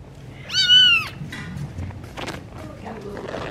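Young kittens, around five to six weeks old, give one clear, loud meow near the start, followed by faint rustling and small movements close by.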